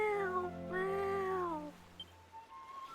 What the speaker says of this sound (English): Let's pet the kitty.